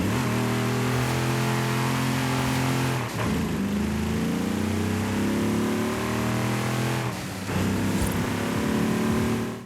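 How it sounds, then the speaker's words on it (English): A Holden HDT VK Commodore Group A V8 engine in Forza Horizon 5 revs hard through its gears, climbing in pitch, briefly dropping at each shift, then winding up again, loud and close. "So that is the sound of the HDT VK Commodore."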